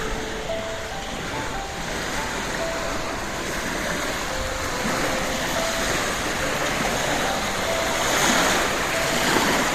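Lake water rushes through a breached embankment into the Adriatic Sea near Ulcinj, a loud, unbroken roar of churning water with a faint tonal hum beneath.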